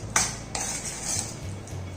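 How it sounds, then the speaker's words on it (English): Spoon scraping and clinking against a pan while caramelized onion and peanut filling is stirred, a few sharp metallic taps over soft shuffling, close and moderately loud. "Give it a nice mix."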